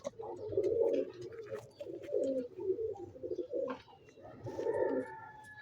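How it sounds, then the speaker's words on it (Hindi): A pet pigeon cooing in a home setting, several low throaty coos in repeated bursts, close and moderately loud, with faint background chirps. "इसके साथ मैंने अपने घर की टैडी कबूतरी लगाई हुई है।"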